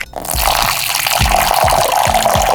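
Liquid swishes and bubbles in a face mask mixing game, a steady watery churn with a few soft low gurgling pops, loud and close with no talking.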